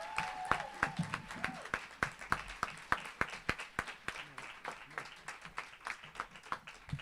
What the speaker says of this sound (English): Please give a round of applause for Mayor Sarno.